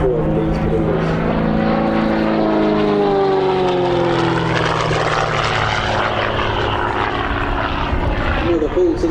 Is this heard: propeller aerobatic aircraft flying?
yes